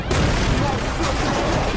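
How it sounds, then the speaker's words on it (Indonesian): A sustained, dense roar of a plane engine blowing up in a film scene, loud and continuous for under two seconds with a rumbling, crackling texture. "keadaan semakin memburuk ketika mesin pesawatnya meledak"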